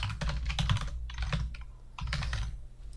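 Rapid, uneven keystrokes on a computer keyboard, close and fairly quiet, in two bursts separated by a short pause, with no one speaking.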